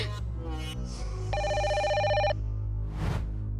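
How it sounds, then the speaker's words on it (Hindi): A cartoon telephone rings with a bright, electronic tone that sounds once for about a second, loud and close, over steady background music and effects. "सिर्फ रिंग बज रही है।"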